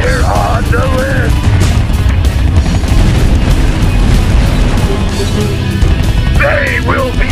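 Gunfire and explosions from a battle in the video game Art of War 3 as a unit comes under attack: dense, continuous booming and crackling at steady high loudness, with game voice lines breaking through over the din.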